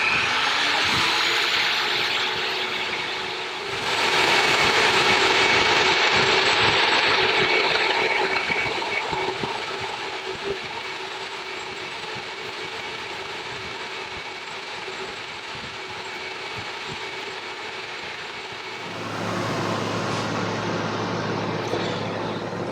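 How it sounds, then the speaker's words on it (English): Chinese belt sander scuffing the chrome on motorcycle pipes, a loud continuous grinding whine with an engine-like drone that rises in intensity partway through, then drops to a steadier hum near the end; no talking. "I got my old friend, the Chinese belt sander out"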